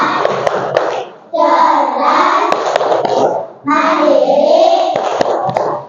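Primary schoolchildren in an Indonesian fourth-grade class perform a group clap chant, voices shouting in unison over loud rhythmic handclaps in several bursts, with brief pauses between phrases.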